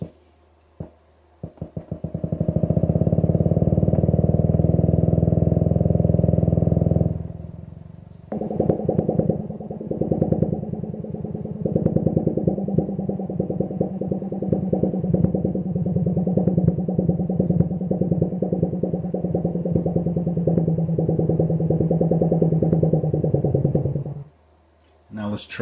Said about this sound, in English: How about a flying saucer?